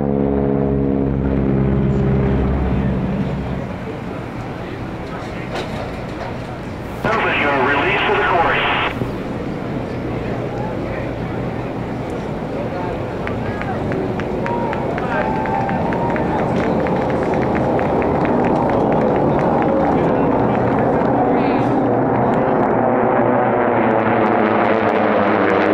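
AT-6 trainer aircraft racing around a course at an air race, their propeller engines droning loudly and continuously with a passing swell, under an announcer's commentary.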